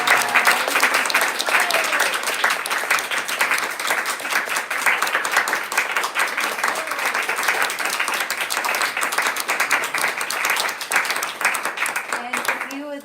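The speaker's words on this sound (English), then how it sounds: "Let's please give a big round of applause" Sustained audience applause at a retreat, dense steady clapping filling the hall throughout, close and loud, with a faint voice surfacing briefly near the end.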